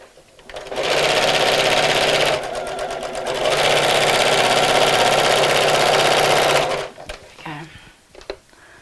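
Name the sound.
sewing machine sewing a Christmas bag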